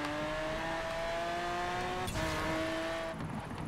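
Car racing in the video game Forza Horizon 4, a steady high engine whine with a gear shift midway and the pitch climbing again, tire noise underneath, continuous and fairly loud with no talk.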